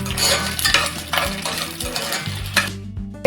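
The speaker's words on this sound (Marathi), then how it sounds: "मी याच्यामध्ये खोबरं घेतले सुक खोबरं आहे हे पहिले आपण थोडस भाजून घेणार आहोत" Dry coconut roasting in a pan while being stirred, with steady close scraping and clinking of a utensil against the pan over a soft sizzle, continuous for a few seconds before a brief quiet.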